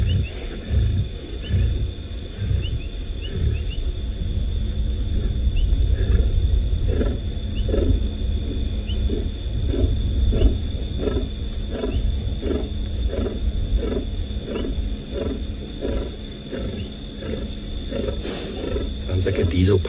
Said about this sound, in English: That is a feeding noise that lions will do to basically say, I am holding on to this piece